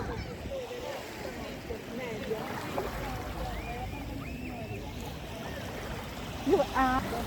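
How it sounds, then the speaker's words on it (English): Water flows quietly and steadily outdoors in Italy, a soft continuous wash with a few faint chirps and a brief knock near the end. "Like, listen to this water real quick."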